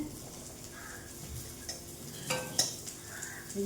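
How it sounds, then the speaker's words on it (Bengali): Quiet sizzling of frying in a wok, with a few scraping stirs and light metallic clinks, no voices. "ভেজে নিই এই কড়াইতে"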